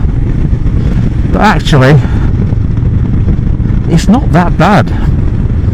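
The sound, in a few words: Royal Enfield Himalayan 2019 motorcycle, 411cc engine, accelerating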